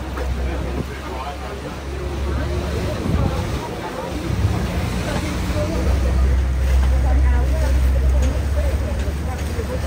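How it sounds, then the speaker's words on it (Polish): A boat motors across the water in flooded Venice, a low engine hum under wind buffeting the microphone and splashing water, with people talking over it throughout. "Jadę na łódkę."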